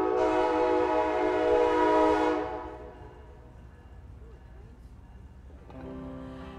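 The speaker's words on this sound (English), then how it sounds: "Wow, lots of trains." Trains pass through a town, a loud sustained horn blast fading into rolling rail rumble, then another horn rising at the end, with a voice speaking faintly.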